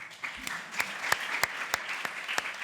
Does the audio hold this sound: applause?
yes